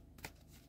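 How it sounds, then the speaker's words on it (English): Cards shuffled in a quiet room, one brief riffling burst near the start over low background hum. "Just going to move these around a little bit. Shuffle them up."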